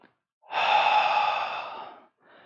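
One long, deep breath drawn in and released during a yoga session for the neck and shoulders, close and clear in a quiet room.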